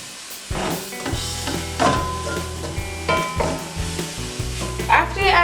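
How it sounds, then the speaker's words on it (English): Frozen vegetables for vegetable rice fry in a pan, with a steady sizzle and repeated clattering scrapes as they are stirred. The sounds are close and moderately loud, with no talking. "And you kind of want to fry this for about 3 to 4 minutes"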